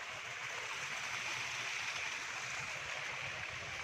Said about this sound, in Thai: มาใส่ตุ่มไว้ แล้วก็ปล่อยเป็นน้ำตกนะครับ เป็นน้ำตก